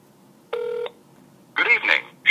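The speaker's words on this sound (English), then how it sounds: "make sure that I can make a phone call successfully on the T-Mobile network" An iPhone 4S places a call on the T-Mobile network: a single short dial tone, then an automated voice begins speaking over the line.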